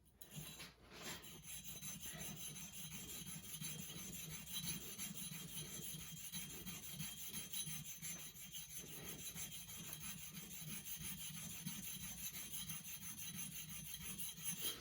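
A marking knife is rubbed back and forth on a sharpening stone in close, quiet rhythmic strokes, a faint continuous rasping with no talk.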